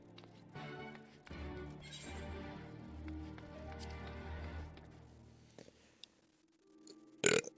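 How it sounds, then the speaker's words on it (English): A long, loud burp rumbles for several seconds at close range, then fades into quiet and is followed by a brief sharp noise. "It's always good to burp once in a while."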